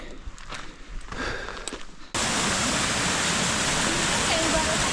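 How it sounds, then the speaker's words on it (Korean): A small waterfall high on a rocky mountain trail near Lake Louise, Canada, rushes as a steady, loud broadband roar that suddenly rises to full strength partway through after quieter outdoor rustling. "폭포인데 조그마한 폭포다"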